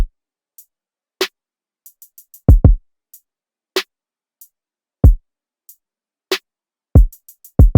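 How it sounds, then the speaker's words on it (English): Deep, punchy kick drum sample in an FL Studio R&B beat lands in a sparse pattern, some hits doubled, with faint ticking hi-hats and snaps scattered between them. "Then a nice bassy hard hitting kick that sounds like this."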